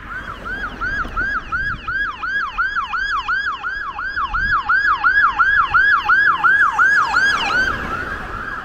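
Police car siren wailing in a fast repeating rise-and-fall cycle on Frankford Avenue in Philadelphia, loud and close over faint street traffic, cutting off near the end.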